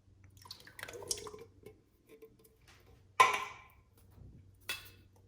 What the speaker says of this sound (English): Now we're going to add in 2 cans of the whole peeled tomatoes.